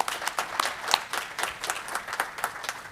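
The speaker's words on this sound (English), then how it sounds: "Let's give them a round of applause," An audience at an amateur satellite symposium's annual general meeting claps for the engineering staff, a moderate, somewhat sparse round of individual claps with distinct sharp hits scattered through a continuous patter.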